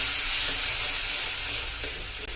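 Spices with turmeric and salt sizzle loudly in a pan while being stirred and cooked for a Rajasthani pitod curry, a steady close frying hiss with soft stirring scrapes and no voices.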